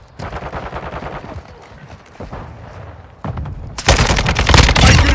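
Rapid automatic gunfire from multiplayer Team Deathmatch in Call of Duty Modern Warfare II, dense bursts of shots that turn heavier and louder toward the end, with faint voices mixed in.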